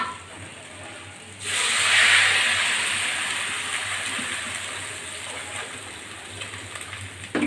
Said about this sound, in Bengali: এখন আমি ঝোল দেব, ঝোলটা দিয়ে দিচ্ছি